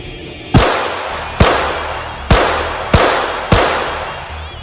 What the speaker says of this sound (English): I'm going to take it out to the range and pop off a few and see how I do.